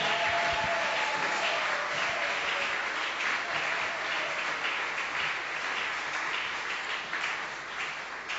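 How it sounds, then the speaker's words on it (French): A church congregation at an evening gospel service applauds and cheers as a reverend comes forward, dense sustained clapping filling the whole stretch and easing slightly toward the end. "nous acclamons le Seigneur."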